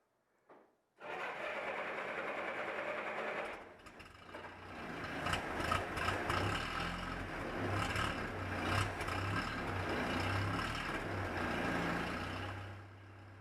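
An old rewired Jeep starts up and drives off on a short test drive, its engine droning steadily and close by, with a low rumble and rattling road noise throughout and the sound fading at the end.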